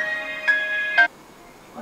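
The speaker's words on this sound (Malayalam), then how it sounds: "കോൾ വന്നു." A phone ringtone for an incoming call, bright electronic tones repeating in two short pulses before cutting off, loud and close, with a faint sound near the end.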